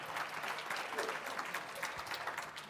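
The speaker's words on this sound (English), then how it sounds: "Yeah, clap it out." An audience claps continuously at a business event, a fairly faint, even patter of many hands across a brief stretch.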